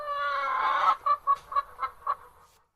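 A chicken clucks as a sound effect, opening with a sustained nasal squawk and then breaking into five or six short, evenly spaced clucks that fade out, loud and close with no talk.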